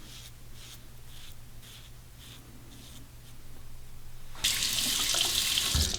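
A King C. Gillette double edge safety razor is rinsed under a running tap, with a few short scraping strokes first and then a loud, steady gush of faucet water close by.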